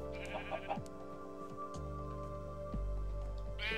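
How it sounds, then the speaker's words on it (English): Sheep bleating in a Lord of the Rings themed building video game set in the Shire, several wavering bleats spread across the clip over faint background music. "Is that a sheep? Oh, it was a sheep."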